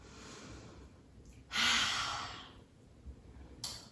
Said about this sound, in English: take lion's breath, inhaling. Exhale, sticking the tongue out. Exhaling through the mouth.